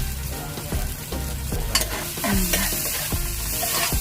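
Bean sprouts and tofu fry in a pan under a steady sizzle while a spatula stirs them, giving repeated scraping knocks against the metal at roughly half-second intervals, close and clear, with no speech.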